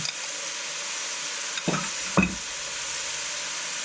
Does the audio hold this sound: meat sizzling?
yes